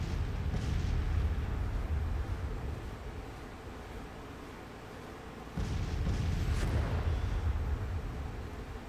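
Civil War artillery and musket fire in the strategy game Grand Tactician: Civil War, a dense continuous rumble of distant cannon booms and volleys that dips midway and then swells again, with no talking.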